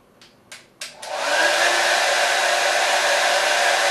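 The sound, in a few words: hair dryer blowing air onto a bowl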